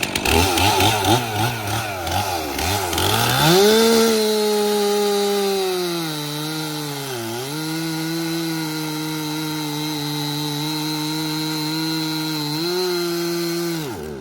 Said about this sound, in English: So I'm gonna go get the chainsaw, run it through here, and Miss Brittany can capture some footage